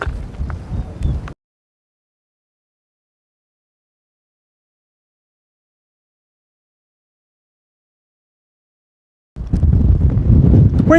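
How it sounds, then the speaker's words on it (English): Wind buffets the microphone on an open hill trail along the Pennine Way, heard as a short rumbling gust, then a long stretch of silence, then another strong, close gust. "Wind's picked up again"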